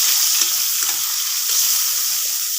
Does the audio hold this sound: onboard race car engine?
no